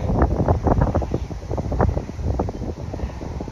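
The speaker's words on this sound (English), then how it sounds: "I'm waiting for the wind to die down again" Gusty wind buffets the microphone outdoors at an ancient earthen mound site, coming in rough, uneven rumbling bursts close up with no voice heard.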